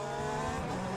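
Tires lock up under braking in a racing video game, a brief tonal squeal layered over the car's engine drone, heard alone and close.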